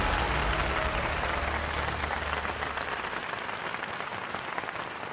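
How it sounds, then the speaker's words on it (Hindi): Applause from a studio audience welcomes a guest on a health talk show. The clapping is dense and continuous, loudest at first, then gradually thins and fades over a few seconds, with no voices. "तो आइए जोरदार तालियों से स्वागत कीजिए"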